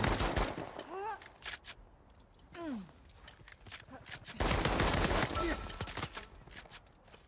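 Spaced gunshots in the video game Uncharted: sharp individual cracks and short bursts fired at a slow, deliberate pace, mixed with a voice talking over them and other game sounds.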